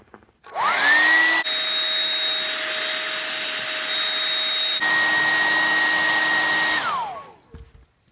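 A hair dryer or heat gun runs steadily for about six seconds while heating the legs of a Mattel WWE action figure, a loud continuous whooshing blow with a slight pitch shift midway, switching on and winding down at the ends with no talking.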